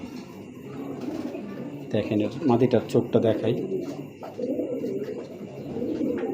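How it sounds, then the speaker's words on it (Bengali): A racing pigeon coos in low, soft pulses close by, partly under someone talking, with a louder burst of calls in the middle of the stretch. "মার্শাল্লাহ কবুতরটা অনেক ভালো একটা কবুতর"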